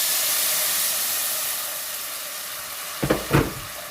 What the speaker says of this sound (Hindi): 1 कप पानी डाल देंगे इसमें